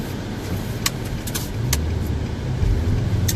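Road traffic rumbles low and steady as cars drive past, a nearby vehicle's hum swelling toward the end, with a few sharp clicks or rattles on top and no voices.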